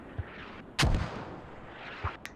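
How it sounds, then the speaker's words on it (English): Mortar rounds land in a team-based video game match, one heavy booming impact rolling out after a short thump, with smaller distant shots before and after. "Nice mortars"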